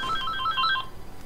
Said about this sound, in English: Sorry, the phone was ringing.